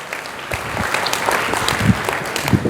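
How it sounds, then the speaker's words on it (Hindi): An audience claps in a brief burst of loud, close applause, uneven and scattered rather than rhythmic, lasting only a couple of seconds. "बहुत जोरदार तालियां आप सबके लिए।"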